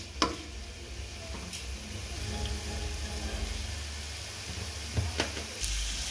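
Beans, cabbage and capsicum sauté in a hot pan with a steady, close sizzle, broken by a few sharp clinks of a spoon or spatula against the pan.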